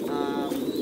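Pigeons on a pigeon farm coo in a dense, continuous, close-up chorus of low, throaty calls.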